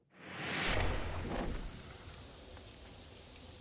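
A farm bin of about 6,000 crickets chirps in a dense, shrill, continuous chorus that swells in after a brief rustle and then holds steady and loud.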